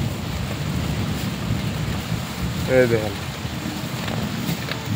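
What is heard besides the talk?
heavy rain and wind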